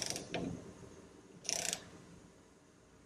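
A torque wrench ratchets in short clicking bursts while tightening suspension bolts on a 1967 Shelby GT500 Mustang during restoration, two quick clusters of metallic clicks with quiet gaps between them.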